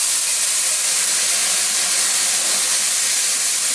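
Spice paste hits hot oil in a pan of fried potatoes, setting off a loud, steady hiss of sizzling that runs unbroken and close throughout.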